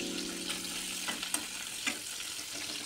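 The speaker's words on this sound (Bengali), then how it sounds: "তেলটা গরম হয়ে গেছে, গরম তেলে পেঁয়াজ, তেজপাতা এবং ফোড়ন দিয়ে দিলাম" Onion, bay leaf and whole spices frying in hot oil, a steady close sizzle and hiss with a few scraping stir clicks, with no voices.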